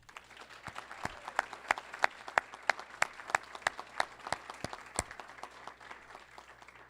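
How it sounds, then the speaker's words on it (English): Audience applause at a high school Wall of Fame induction ceremony, with a dense bed of clapping hands and sharp individual claps popping out steadily over nearly seven seconds, moderately distant and even. "I'd like everybody to give a big round of applause to Jeff"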